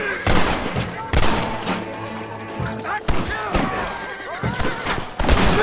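Rapid gunshots in Red Dead Redemption fired at a rope, a string of loud sharp cracks in uneven bursts, mixed with game sounds and a voice talking over them.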